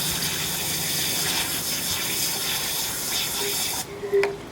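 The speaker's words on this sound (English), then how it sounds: "Just give it a rinse." Running water from a tap pours steadily over a freshly cut fish fillet being rinsed of blood, a continuous close gush that cuts off near the end, followed by a brief clink.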